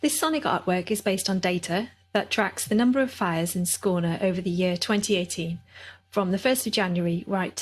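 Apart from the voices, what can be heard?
No distinct noise like a dog, phone or traffic.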